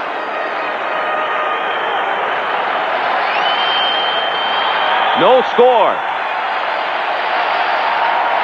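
A steady, broad roar from a baseball stadium crowd during a 1992 World Series game, full and continuous, with a commentator briefly speaking over it.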